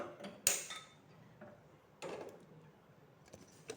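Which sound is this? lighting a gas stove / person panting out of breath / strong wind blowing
lighting a gas stove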